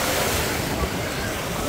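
Ocean waves washing and surging continuously, with a steady broadband roar and some wind rumble, close by.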